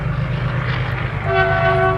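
A diesel train rumbles close by with a deep, heavy drone, and partway through a loud horn sounds in sustained tones over the rolling noise.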